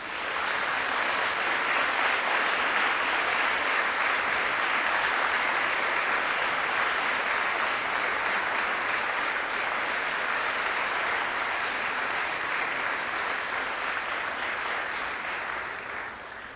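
A large graduation audience at the University of Manchester applauding, a dense, sustained roar of clapping that holds steady for many seconds before starting to fade at the end.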